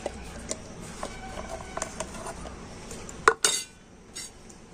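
Cut ripe mango pieces drop into a steel mixer grinder jar, making faint taps and clinks, then a sharper, louder clatter near the end in a quiet kitchen.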